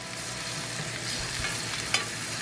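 Butter sizzles hard in a hot pan alongside a ribeye steak, a dense, steady crackling hiss close up with a single sharp pop near the end.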